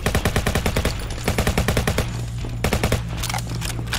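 A rapid-firing gun in the zombie shooter Ultimate Zombie Defense rattles off fast, evenly spaced bursts of shots, loud and close, with a brief lull and then more bursts, no voices.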